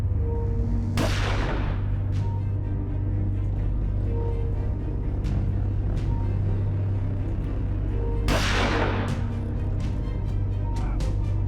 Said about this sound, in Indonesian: Polisi terpaksa buang tembakan peringatan